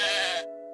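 A single sheep bleats once, a short, close, wavering cry that stops abruptly.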